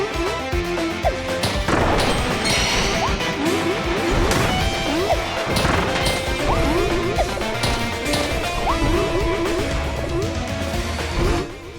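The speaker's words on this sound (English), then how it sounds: "after blowing up that bomb block" Bomb block exploding in the Kirby and the Forgotten Land video game, heard as sharp crashes and thwacks amid busy game music and effects, steady and loud throughout.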